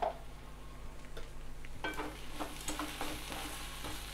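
Fenugreek leaf fry sizzling in a pan while being stirred, a soft continuous frying hiss broken by scraping stirs, with no talk.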